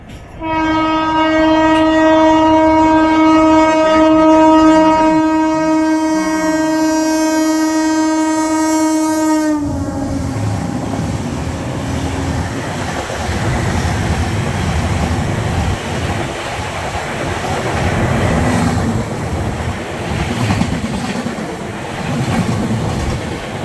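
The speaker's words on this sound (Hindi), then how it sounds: "क्योंकि अब आ रही है तूफानी सेंट्रल रेलवेज की राजधानी" Central Railway's Rajdhani Express overtaking alongside the Mahakaushal Express sounds a long, loud two-tone horn blast, then roars past close by in a rushing wall of rumble and wheel clatter.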